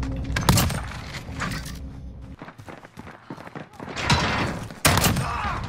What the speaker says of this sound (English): you shot, you shotgun somebody?